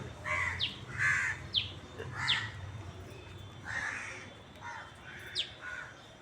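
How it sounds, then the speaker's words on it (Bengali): Several crows caw repeatedly on a rooftop, their harsh calls coming in irregular bursts at moderate distance over a low background hum, with no one talking. "কাকগুলো সব এসছে এসে এখানে কি করছে আমি নিজেও বুঝতে পারছি না একদম চেঁচা মিছি সকাল থেকে"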